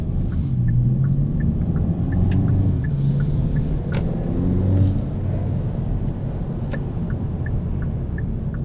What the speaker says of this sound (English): Driving it in sport mode, transmission in drive.